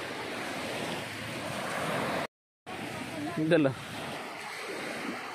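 Sea waves wash onto a beach in a steady roar mixed with wind buffeting the microphone, broken by a brief dropout, while a voice briefly speaks close by.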